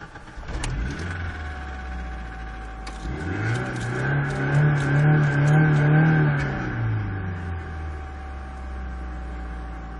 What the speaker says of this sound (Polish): Kilka mankamentów jest, chociażby ten dźwięk przy rozruchu silnika